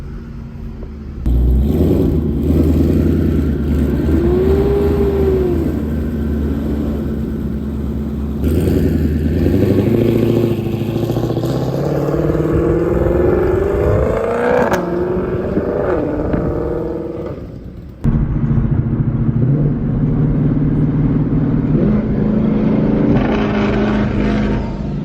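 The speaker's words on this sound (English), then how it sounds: "Them downshifts though. Those turbos are nasty." A cammed, twin-turbo Ford GT500 runs on Florida streets, rumbling close by as it revs up, downshifts and climbs through the gears. Loud engine tones rise and fall, with a short drop-off before the engine roars again.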